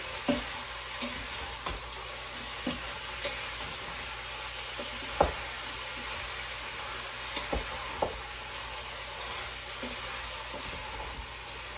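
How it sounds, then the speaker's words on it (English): Beef and onions for Czech goulash sear in a pot with a steady, even sizzle and hiss and occasional soft stirring clicks, continuous and moderately quiet. "And it just wants the onions to sweat. And the meat to sear."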